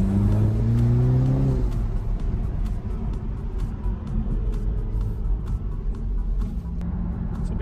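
A BMW Z4 engine rumbles steadily with a brief rev near the start, then settles into a low, continuous drone with faint crackling exhaust burbles.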